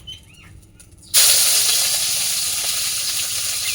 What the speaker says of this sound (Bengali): আর যে পেঁয়াজ রসুন আর সর্ষে বাটাটা ছিল, আদা বাটা, সেটা আমি দিয়ে দেবো তেলে